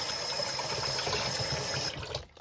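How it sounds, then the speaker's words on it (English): Steady gushing water from a tap running over a wig to rinse conditioner out of it, a continuous rushing stream close by that breaks off near the end. "I want to rinse until there are no more bubbles"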